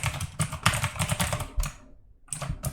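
Rapid typing on a computer keyboard while building database fields in Moodle, dense clattering keystrokes with a short pause before a final quick run of keys.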